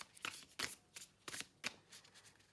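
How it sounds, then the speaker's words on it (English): A thick cardstock tarot deck is shuffled by hand, producing quiet, close bursts of riffling and sliding cards in an irregular rhythm of about eight short flurries. "Let's give it a bit of a shuffle."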